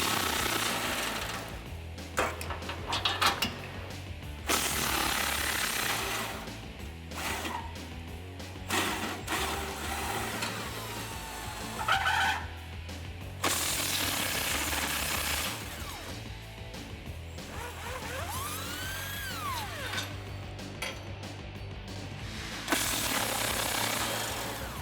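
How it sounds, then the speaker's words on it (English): A socket and wrench loosen the cross member bolts under a 2015-2018 Ford F-150 with a 2.7L/3.5L EcoBoost, giving repeated bursts of rapid ratcheting clicks separated by short pauses, close and fairly loud. "we're gonna do that using a 15mm socket on the bolt side and a 18mm wrench on the nut side"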